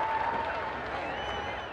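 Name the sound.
crowd cheering at Moses Lake demolition derby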